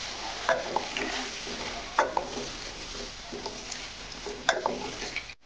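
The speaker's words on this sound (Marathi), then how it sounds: "यांना अगदी थोडंसं आपल्याला 1 मिनिटभर फ्राय करून घ्यायचं आहे मसाल्यांमध्ये." Halved boiled eggs fry in masala for a spicy village-style egg curry, a soft sizzle broken by several distinct spatula scrapes and stirs against the pan.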